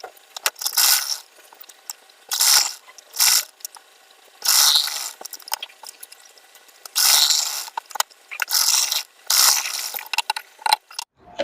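A sewing machine stitching the back neck of a princess-cut blouse runs in short, clattering bursts, about eight in a row with brief pauses between, close and alone.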